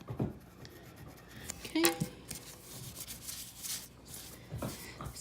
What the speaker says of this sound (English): let me finish scratching this off actually